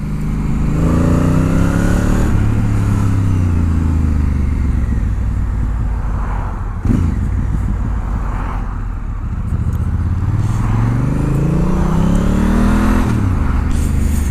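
Honda Africa Twin motorcycle engine while riding, loud and close, rising and falling through revs and gear changes over steady wind rush, with no talking.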